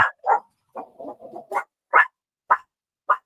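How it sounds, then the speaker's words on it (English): A dog barks at a package delivery, a series of sharp, loud, close barks and yips with short gaps, the later ones evenly spaced, and no other sound between them. "would cause Lily to bark"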